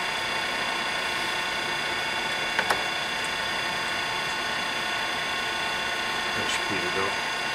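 A Willis-Bergo radial drill with a 4-foot arm and 12-inch column runs its spindle under power feed, a loud continuous mechanical whir with gear whine and a couple of faint clicks.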